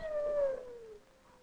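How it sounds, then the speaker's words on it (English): A husky dog in a winter village on Alaska's west coast lets out a single drawn-out howl that slowly falls in pitch, clear and fairly close, with faint quieter whines trailing behind. "husky dogs tell us we're in the land of Eskimos."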